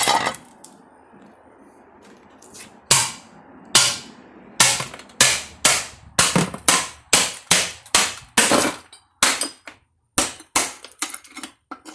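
Sharp metallic hammer blows on a 1982 Crane Radcliffe toilet, sparse at first then a rapid, steady series of loud, close strikes ringing out with brief gaps between.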